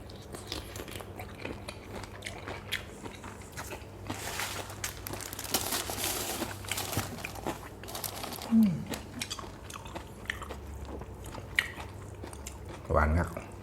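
Someone eats crunchy, spicy Thai som tum made with lotus stems and fresh shrimp, with soft, close biting and chewing crunches under a steady background hum. A voice can be heard here and there.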